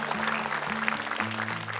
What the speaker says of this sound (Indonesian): tepuk tangan buat Syekha